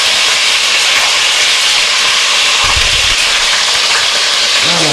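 Chicken thighs browning in a hot pan give off a loud, steady hiss of frying fat that runs unbroken throughout, with a short low thump partway through.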